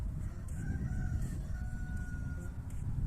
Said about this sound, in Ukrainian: а курочки злякались та розбіглися